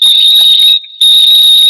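Loud, steady high-pitched electronic fire alarm tone sounding continuously, with one brief drop near the middle before it resumes at full strength.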